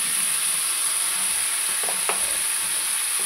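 Potato and pumpkin curry with turmeric frying in a pan gives a steady close sizzle and hiss, with a few light stirring clicks.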